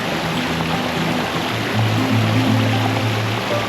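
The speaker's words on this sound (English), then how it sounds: "this waterfall right here is kind of hidden from the house" Water from a backyard pond waterfall spills and splashes in a steady continuous rush, fairly loud and close, with a low murmuring undertone and no voices.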